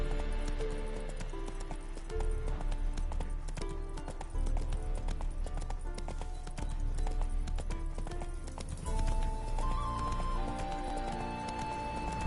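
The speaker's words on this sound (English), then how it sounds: "Spooking my horse. Roach doesn't like ghosts." Roach, Geralt's horse in The Witcher 3, clip-clops steadily with hooves, snorts and whinnies throughout, set against an in-game music and ambience bed.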